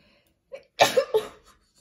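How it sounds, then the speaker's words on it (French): A person sneezes in a quick run of sharp, explosive bursts, loud and close with brief breaths between them. "j'ai envie d'éternuer."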